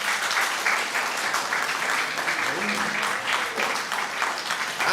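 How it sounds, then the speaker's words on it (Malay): A seated audience in academic robes claps loudly and steadily at a professorial inaugural lecture, the dense applause filling the hall without a break. "Berikan tepukan."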